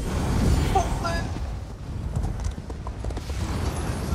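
Horses galloping in Elder Scrolls Online PvP around a keep's grounds, a steady run of hoof clip-clops under loud battle noise and someone talking over them.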